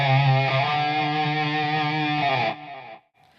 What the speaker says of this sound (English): Now I have a different distortion sound.